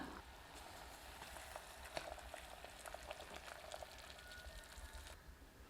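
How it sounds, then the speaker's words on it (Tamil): Sweet pongal with dissolved jaggery boils in a pot, giving a soft, steady bubbling and crackling hiss that stays faint and continuous with no talking. "நல்லா ஒரு மூணு நாலு நிமிஷம் கொதித்து வரட்டுங்க"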